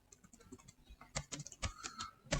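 Quick clicking keystrokes on a computer keyboard as an Excel IF formula is entered, light irregular taps at first building to louder, faster clusters of keys, close and without talk.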